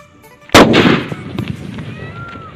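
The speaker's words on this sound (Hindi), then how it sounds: "ये डबल धमाका का कुछ इस तरह अंदाज रहा" A loud, sharp Diwali stone bomb firecracker blast bursts suddenly, then its crackling, rumbling echo fades away over the next couple of seconds.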